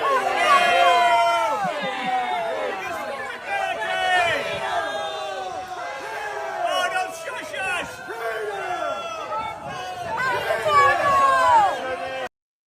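Rally crowd chanting and cheering in unison, calling for Congresswoman Elise Stefanik to hold a town hall, loud and sustained throughout with overlapping shouted voices and swells of cheering.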